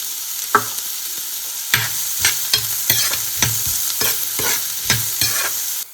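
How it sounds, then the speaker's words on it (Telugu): Chopped onions and garlic sizzle in a hot pan while a spoon stirs in repeated scraping strokes, close and steady with no voices. "ఇలా వెల్లుల్లిపాయ కొంచెం దోరగా వేగిన తర్వాత ఆనియన్స్ వేసుకోవాలి"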